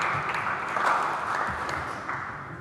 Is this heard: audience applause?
yes